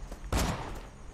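Single sniper shot in the Tales from the Borderlands game, a sharp loud crack followed by a short decaying tail, alone against a faint background.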